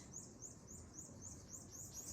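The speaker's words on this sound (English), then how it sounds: "We've got some birds with us in class this morning" Birds sing outdoors during a morning beginner yoga class, their faint, repeated high chirps coming in a regular rhythm over quiet background hiss.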